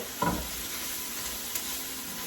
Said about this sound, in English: we want to cook this in the pan until the spinach is wilted